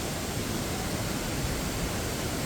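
Diyaluma Falls near Koslanda in Sri Lanka pours down in tiered cascades, giving a steady, dense roar of falling water that holds constant and fairly loud throughout, with no voices.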